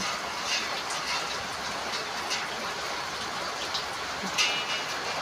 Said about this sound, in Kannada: ಇವತ್ತು ಬೆಳಗ್ಗೆ ಮಳೆ ಸ್ಟಾರ್ಟ್ ಆಗೈತ್ರಿ.